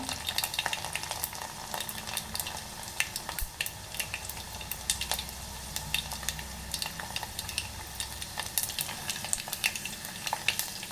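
Garlic tempering frying in oil on low heat until brown for a tamarind rasam, a continuous close sizzle dotted with sharp crackles and occasional clinks of a spoon stirring, steady throughout with no talking.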